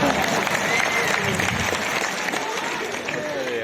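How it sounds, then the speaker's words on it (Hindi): An audience at a Hindi kavi sammelan, a poetry recital at Devarbija, applauds in a steady, dense wash of clapping that holds at one level throughout, with a faint murmur of crowd underneath. "ताली बजाओ"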